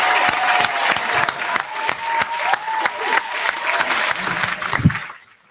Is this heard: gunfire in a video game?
no